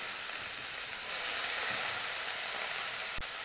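Garlic and onion fry in hot oil with mustard seeds for a Chhattisgarhi barre bhaji, giving a steady, loud, close hiss of sizzling that swells slightly midway, with no talk.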